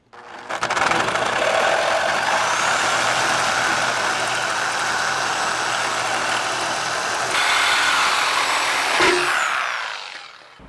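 Sawzall reciprocating saw cutting metal under a 2019 Chevy 1500 pickup, a steady loud buzzing drone held for about nine seconds before it winds down at the end.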